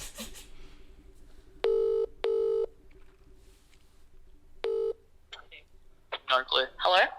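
Touch-tone phone dialing a number: several distinct DTMF tone bursts, loud and close, followed by a rising ring or connection sound, with faint voices around.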